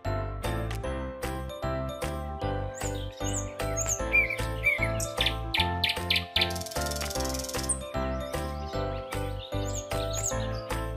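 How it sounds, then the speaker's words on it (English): A nightingale sings in quick, bright chirps and trills over a steady, rhythmic music bed. The song is fairly loud and repeats throughout. "Nightingale."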